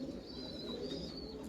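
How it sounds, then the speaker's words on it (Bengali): Pigeons coo softly in a low, throaty rolling murmur, a steady close burble from a few birds with faint higher chirps drifting over it. "এখানে 4 পিস পায়রা আছে,"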